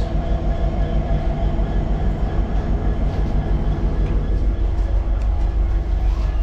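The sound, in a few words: Haldibari Superfast train standing at station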